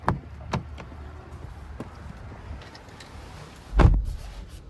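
Climbing into the driver's seat of a 2023 GMC Yukon Denali Ultimate SUV on a windy day: a few dull thumps and knocks of door and body, the heaviest near the end, over low wind rumble.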